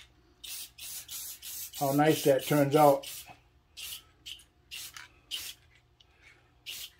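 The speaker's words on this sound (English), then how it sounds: "what you can do is just take a clear spray" Several short hissing bursts from a clear aerosol spray coating a wooden toy, close by, in quick spurts with pauses; someone speaks briefly partway through.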